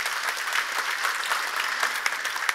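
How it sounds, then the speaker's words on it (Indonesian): A church congregation claps at a sermon, a steady, dense round of applause that fills the room, close and loud, with a faint murmur beneath. "Ya tepuk tangan."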